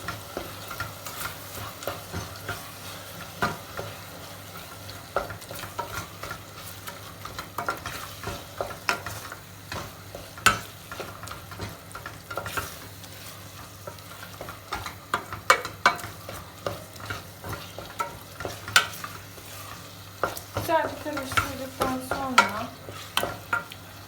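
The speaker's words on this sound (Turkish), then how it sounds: "Daha sonra baharatlarımızı ilave ediyoruz. Biraz karıştırıyoruz." Spices being stirred in a hot frying pan for Kayseri yağlaması filling, a low sizzle under repeated scraping and clinking strokes of a spoon against the pan, close and fairly quiet, growing busier toward the end.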